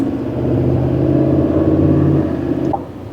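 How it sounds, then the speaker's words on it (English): A diesel pickup truck, a 2025 Ram Cummins or GMC Duramax, with its exhaust brake engaged gives a steady deep engine rumble and drone that holds for about two seconds, then eases off, heard close from inside the cab. "I'm putting on the exhaust brake just so I can feel it a little bit"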